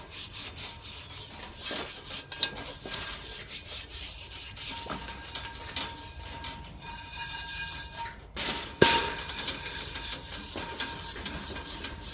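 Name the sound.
scrubbing a Lodge 8DO cast iron Dutch oven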